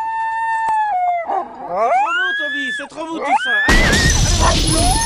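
A dog howls in long rising and falling wails, close by, followed by a burst of loud crashing noise near the end.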